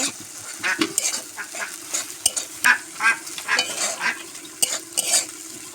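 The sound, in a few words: fish being stir-fried in spice masala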